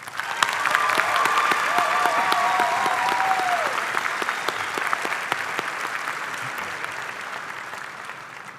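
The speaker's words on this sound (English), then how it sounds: "Can we get another round of applause?" Sustained, steady applause fills a high school commencement ceremony hall, a large audience clapping continuously with a few faint voices underneath.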